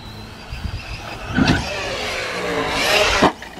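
An Arrma Senton V3 3S RC short course truck whines past with its electric motor, revving up with a bump near the middle and a sharp clack at the end as it goes over a ramp.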